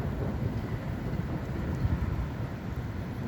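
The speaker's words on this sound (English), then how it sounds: "It's just kind of rolling thunder." Low, continuous rumbling roll of thunder from a monsoon storm fills the whole stretch, steady and heavy with a windy wash over it, no voices.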